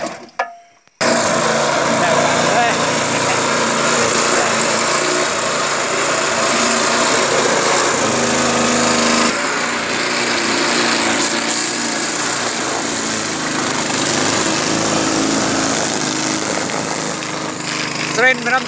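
A small motor boat engine runs steadily at high revs at Bamgaijang village, Tamenglong, Manipur, a continuous loud buzzing drone with faint voices mixed in.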